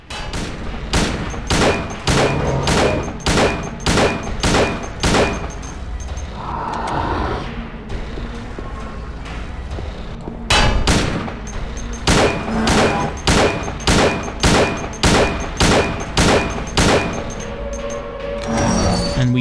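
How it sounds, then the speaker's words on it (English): Rapid bursts of loud gunfire in the video game Silent Hill 2, shot after shot in quick succession, with a short lull in the middle before the firing resumes. "our gunshots do slow him down"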